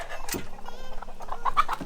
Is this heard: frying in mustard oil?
no